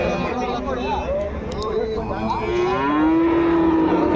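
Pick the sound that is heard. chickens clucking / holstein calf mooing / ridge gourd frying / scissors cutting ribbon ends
holstein calf mooing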